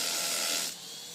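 A Bosch Bulldog rotary hammer drills into concrete with a loud, steady, gritty roar for about three-quarters of a second, then cuts off, leaving a quieter hiss.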